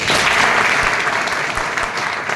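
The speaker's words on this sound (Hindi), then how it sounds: "अगर ये बात अच्छी लग रही हो तो एक बार ताली बजाइए" A Hindi motivational talk audience bursts into loud, dense clapping that holds steady for the whole stretch, close and continuous with no voice over it.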